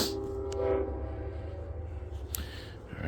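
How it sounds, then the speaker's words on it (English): A train horn sounds at the start over a low rumble of rail traffic, followed by steady rolling noise and a few brief clanks. "that train's about to come and get real loud"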